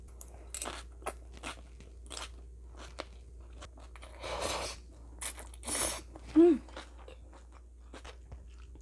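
Someone eats yeolmu kimchi with cold noodles, producing scattered close crunching bites and chewing in short bursts with quiet gaps between them.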